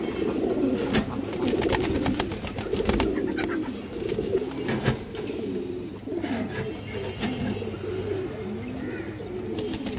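A silver Beji male tournament pigeon coos in repeated close, throaty rolling phrases, with scattered clicks and rustles behind it.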